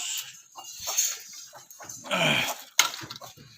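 Local goats, kept on a goat farm, bleat in short, nasal cries close by, several overlapping calls with rustling in between.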